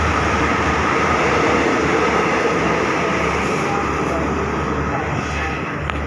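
Train number 5232 passes through Chum Saeng station at night, a steady, loud rumble of wheels and carriages rolling close by without letup for the whole stretch.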